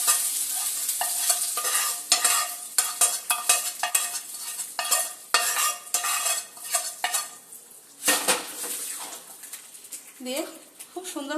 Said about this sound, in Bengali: ফোড়নটা এই ডালের মধ্যে আমি ঢেলে দেব।